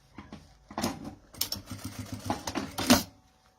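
Sewing machine stitching bias binding onto a document holder, a quiet run of rapid mechanical clatter in short bursts with brief pauses between them.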